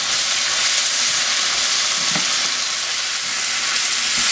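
A single habanero pepper fries in a hot pan, giving a loud, steady, dense sizzle that stays even throughout, with one faint clink near the middle.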